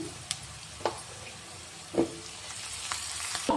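Onions fry in a pan with a continuous close sizzle, punctuated by a few distinct scraping thumps of a spoon stirring at irregular intervals.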